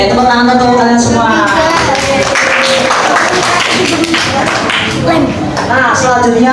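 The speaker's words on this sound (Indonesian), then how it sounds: "tepuk tangan untuk kalian semua" Applause and scattered clapping from a fourth-grade class of students, loud and close, mixed with children's voices and chatter throughout.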